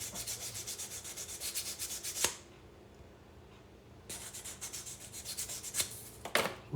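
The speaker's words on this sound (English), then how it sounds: "Go ahead and hit it again with the sanding" Ring stretched to size 14 being sanded with a sanding rock: close, steady rapid rubbing strokes in two bursts separated by a short quiet pause, with a few sharp clicks.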